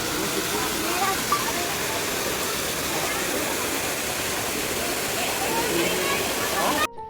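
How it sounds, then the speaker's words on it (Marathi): Steady broadband rush of a monsoon waterfall in Sanjay Gandhi National Park, Borivali, a constant hiss of falling water that cuts off abruptly at the end. "तर इथे एक छान धबधबा आहे आपण तिथे जाऊयात आता"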